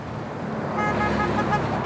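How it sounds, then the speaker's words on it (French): A car gives a short horn honk on a roadside in northern Argentina. The toot rises over a steady rumble of passing traffic and engine noise. "Le petit coup de klaxon, qui n'a l'air de rien, c'est en fait une marque de profond respect."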